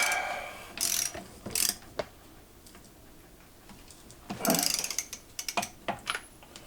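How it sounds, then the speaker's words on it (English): A torque wrench tightening bolts on a Nissan S13 project car to 58 foot-pounds gives a few sharp clicking ratchet bursts, with a cluster of quick clicks near the end, close and fairly quiet with no talk. "I'm going to torque them to 58 to 72 foot-pounds."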